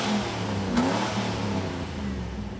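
A 1986 F-body car revs its exhaust at a car-meet exhaust competition, giving a steady, loud, close engine drone with one brief rise in pitch near the start and no talking.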